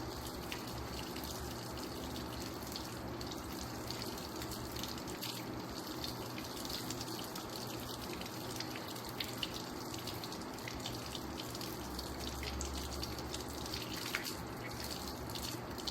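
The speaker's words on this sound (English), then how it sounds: "Now I'm gonna rinse my hands." Tap water runs steadily into a sink, splashing as hands are rinsed under the stream during handwashing, a constant close hiss throughout with no talking.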